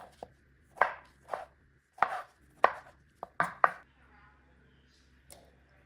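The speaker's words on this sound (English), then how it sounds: "Chop 1 small tomato." A knife chopping a small tomato on a board for a mango avocado salad: about eight crisp, separate cuts in an uneven rhythm, close and clear, with short pauses between them and no talk.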